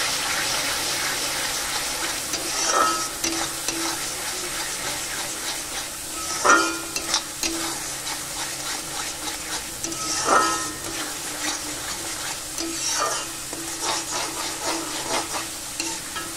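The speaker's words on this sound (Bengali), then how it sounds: "এবার ভালো করে কষিয়ে নেব" Spices with Kashmiri chilli powder and salt being stir-fried in oil in a pan for a tangra fish tel jhal, a steady close sizzle with periodic scraping stirs about every four seconds.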